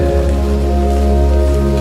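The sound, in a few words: rain tapping on a window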